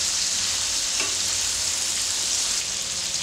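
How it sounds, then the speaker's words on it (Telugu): Marinated fish pieces frying in oil until crispy, a loud, dense, continuous sizzle close to the pan with no voices. "అటువైపు టర్న్ చేస్తూ క్రిస్పీగా వచ్చేంత వరకు ఫ్రై చేయాలి"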